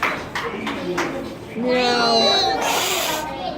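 A cat meows with drawn-out, wavering cries, loud and close, coming after a few short scuffing sounds in a noisy outdoor spot.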